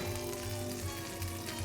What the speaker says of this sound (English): Oh, you can hear that butter sizzling.